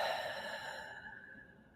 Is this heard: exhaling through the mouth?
yes